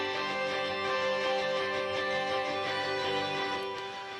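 Layered rock guitars from a positive power rock production track, chunky distorted rhythm parts blended with twangy leads, playing steadily and loud as a dense continuous mix with no voices.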